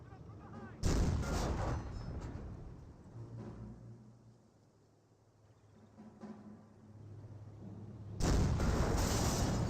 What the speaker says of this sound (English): Naval Warfare Barrage firing away.